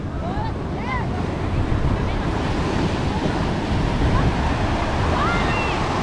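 Ocean waves roll onto the beach at Oxnard, California, a constant loud wash of surf mixed with wind rumble on the microphone, with faint distant bird calls above it.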